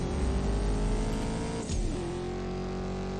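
Aston Martin Vantage racing in CSR2, a loud, steady engine drone running throughout with a brief dip and shift partway through, no talk.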